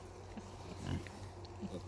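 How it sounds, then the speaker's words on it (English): A small pig on a farm lets out soft, low grunts up close, one fuller grunt in the middle and fainter snuffles around it. "That's the small friendly pig right here."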